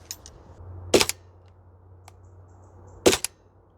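Maruyama MP9 airsoft gun half-cycling on a cold outdoor range: two sharp snapping shots about two seconds apart, each with a quick mechanical after-click, close and alone over a faint low hum.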